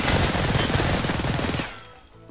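Sustained rapid gunfire from a heavy gun in Escape From Tarkov, a loud continuous burst of dense shots for over a second and a half before it abruptly stops.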